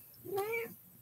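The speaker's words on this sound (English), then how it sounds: "Meow." A house cat gives a single drawn-out meow, quiet and close, rising then falling over about half a second in an otherwise still room.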